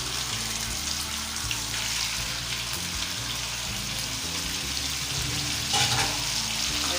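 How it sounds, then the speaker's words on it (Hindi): Chicken frying in chili garlic and ginger garlic paste for a Singaporean rice dish, with a steady, close sizzle and stirring throughout and a brief louder scrape near the end. "इसको हम फ्राई करें।"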